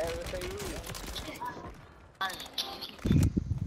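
A Blixen gun fires in Warzone, a short burst of rapid shots late on, after someone talks over quieter game noise.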